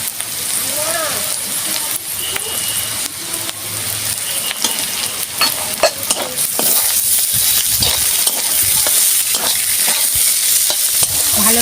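Hilsa fish bones frying in a pan with onion and bitter gourd, a steady bright sizzle throughout with scraping and clinking of a spatula stirring, close and fairly loud.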